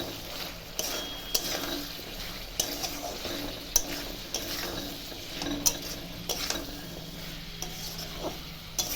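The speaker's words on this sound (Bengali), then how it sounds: "তারপর মশলাটা দিয়ে ভালো করে কষাবো" Spice paste of ginger, cumin powder and Kashmiri chilli powder is stirred and sautéed in a pan for a chickpea curry, with a soft sizzle under regular scraping and sharp ladle taps against the metal.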